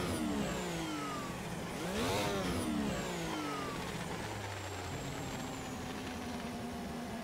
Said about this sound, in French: Moi, je trouve ça très convaincant comme bruit de V6.